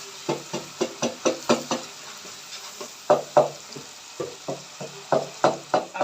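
Tomato, garlic and ginger masala being stirred in a frying pan for aloo matar, with a spoon scraping and knocking against the pan in quick rhythmic bursts over a soft sizzle, close and fairly loud, pausing briefly midway before resuming.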